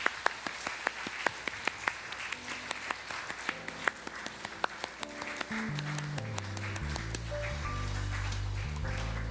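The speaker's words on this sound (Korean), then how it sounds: "나오실 때에 큰 박수로 환영해 주시면 대단히 감사하겠습니다." Scattered, sparse clapping echoes through a church service as new members come forward for a completion ceremony, individual claps spaced out before sustained organ or keyboard tones swell in underneath.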